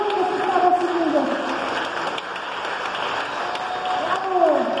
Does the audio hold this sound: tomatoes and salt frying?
no